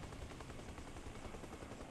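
A helicopter in the video game Arma Reforger drones with a dense, steady rotor and engine roar, heard quietly throughout without any voices.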